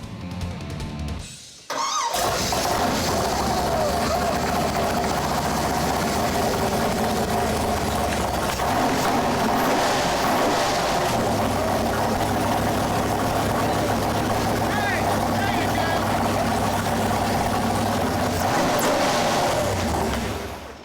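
A freshly installed engine in a new Yenko Camaro muscle car fires up in a Tulsa, Oklahoma shop. After a brief crank it catches, then runs loud and steady at a rumbling idle for nearly twenty seconds.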